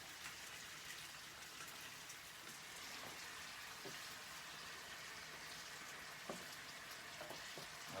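Meat sizzles quietly in a hot pan after being flipped to sear the other side, a soft, continuous crackle with scattered louder pops, heard alone and fairly faint.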